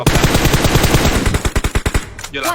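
Rapid automatic gunfire in the PUBG Mobile video game, a long loud burst of closely spaced shots that slows into a few separate cracks before stopping.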